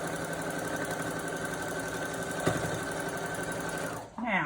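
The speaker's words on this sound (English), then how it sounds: "sew down this edge that's not sewn together" A sewing machine runs steadily close by, stitching down the edge of a homemade fabric face mask with an even mechanical whir, then stops near the end as a voice begins speaking.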